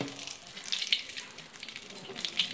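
Dried chilies frying in hot oil for a northern Thai pickled mustard green dish, a close, steady crackling sizzle with sharper pops, no talking.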